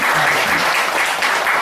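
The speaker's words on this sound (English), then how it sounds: "Our applause for our honors people." Audience applause at a product demonstration event for honored attendees, a brief burst of dense clapping from a crowd, steady and fairly loud throughout.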